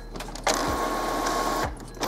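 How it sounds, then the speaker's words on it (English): An HP Deskjet 3520 inkjet printer whirs and shuttles while printing a test page, a steady mechanical buzz framed by clunks of paper feed at start and end, close and alone without talk. "your machine will now spit out a test page"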